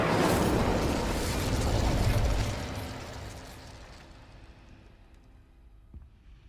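Incendio fire spell cast in the Hogwarts Legacy video game: a loud burst of crackling, whooshing flame that rumbles for about two seconds, then fades into a fainter roar with a small pop near the end.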